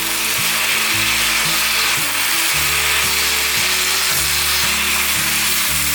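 Black fungus and shiitake stir-frying with seasonings in a wok, a loud continuous sizzle with a shifting low rumble of stirring underneath throughout.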